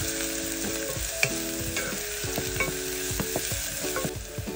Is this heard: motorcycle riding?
no